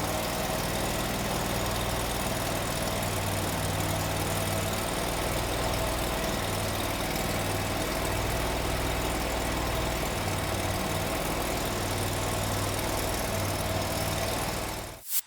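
A Hammerhead machine's engine idles steadily and loudly throughout, a constant low drone with vibration that cuts off abruptly at the very end.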